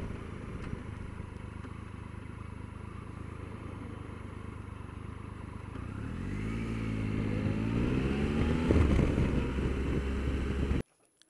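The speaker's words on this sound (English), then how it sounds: "there are two vehicles that are going to come across our path" Several vehicles drive through a dual carriageway roundabout, their engines a steady close rumble that swells and rises in pitch as they pass and accelerate away, ending abruptly.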